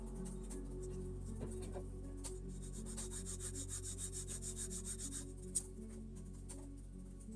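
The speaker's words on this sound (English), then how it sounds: "I chamfer the outer edges and flatten the backs against the file to keep everything consistent in height." Walnut shell pieces rubbed flat against a file, giving a quick run of rhythmic rasping strokes, close and fairly quiet, over a steady low hum.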